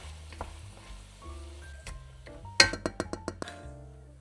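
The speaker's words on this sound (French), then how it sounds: "je viens faire revenir mon mélange d'oignons, d'ail et d'échalotes jusqu'à ce qu'il devienne bien fondant" Onions, garlic and shallots sautéing in a frying pan for a vegetable broth, with a faint sizzle under a burst of sharp, regular clatters of a utensil against the pan near the end, close and without talk.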